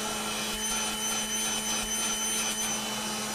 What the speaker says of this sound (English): now I'm vacuuming it with this nice little Milwaukee vac